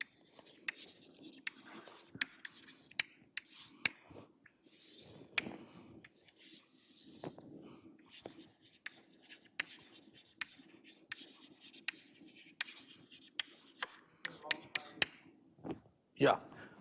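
Chalk or marker strokes scratch and tap across a board during a mathematics lecture on the Green–Tao theorem, a string of short, sharp, irregular marks mixed with the lecturer's ongoing speech.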